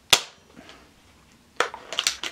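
A Diana Mod 6 air rifle fires a single sharp, loud crack, trailed a moment later by fainter clicks and a metallic clatter of handling.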